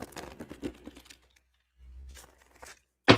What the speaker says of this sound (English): Let me shuffle one more time here.